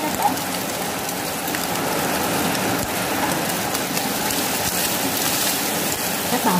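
Heavy rain pours down steadily as a loud, constant hiss during home cooking of savory southern Vietnamese rice cake with coconut milk, with no pause and no talk.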